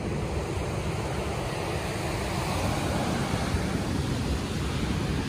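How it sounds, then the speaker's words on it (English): Steady ocean surf on a Durban beach in South Africa, a continuous wash of waves with wind noise, moderately loud and unbroken, with no voices. "What a beautiful morning on the beach."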